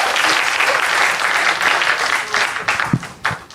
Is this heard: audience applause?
yes